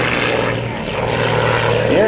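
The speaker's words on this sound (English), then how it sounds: "The Air Guard Stalker S-300D, 420 degrees per second. An amazing roll." Stalker S-300D aerobatic propeller plane rolling overhead at an air show, its engine a loud continuous drone with a rising whine near the end, under a booming announcer.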